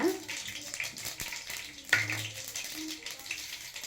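Mustard seeds crackle in hot oil in a pan, with cumin and chana dal added for masala chitranna; a steady soft sizzle with scattered small pops, moderately faint throughout.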